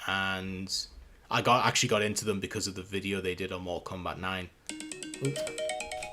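A mobile phone ringtone plays a short melodic tune, heard alone after someone speaks over a game livestream.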